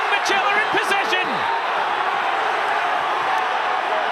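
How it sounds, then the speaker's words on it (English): A football stadium crowd at a Glory match howls and roars as it demands a red card, a loud, sustained wall of noise. A commentator's voice rises over the first moments. "The crowd are howling for Rouge."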